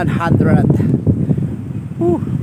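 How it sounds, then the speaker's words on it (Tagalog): Strong wind buffets the microphone in a heavy, continuous roar while a voice speaks over it. "At ang lakas ng hangin, grabe guys"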